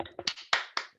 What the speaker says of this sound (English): A round of applause anyway.